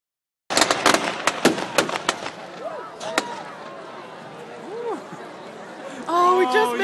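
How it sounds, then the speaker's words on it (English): Fireworks at a Brockham bonfire night display crack and pop in a rapid burst of sharp bangs, then thin out, while a crowd chatters and voices talk nearby. "You just missed the firework display of the century."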